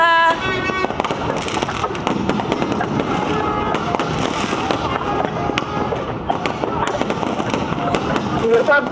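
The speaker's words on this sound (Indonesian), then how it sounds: "suasana kembang api." New Year fireworks bursting over Bundaran HI in Jakarta, with a rapid, continuous barrage of crackling pops and booms, some sharp close bangs among distant rumbling, under a faint background of crowd noise.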